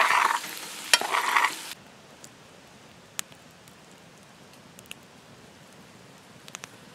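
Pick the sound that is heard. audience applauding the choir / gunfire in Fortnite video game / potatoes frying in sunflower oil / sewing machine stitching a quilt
potatoes frying in sunflower oil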